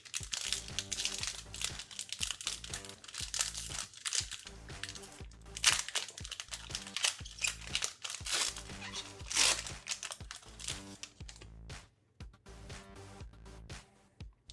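A Mystery Booster trading card pack wrapper being torn open and handled, giving close, continuous crinkling and crackling foil noise with sharp tearing bursts throughout.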